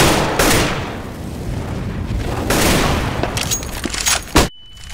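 Gunfire in the video game Counter-Strike, played during a team match: dense, loud bursts of shots and impacts crackle in several waves, ending in a sharp blast and then a sudden near-silence.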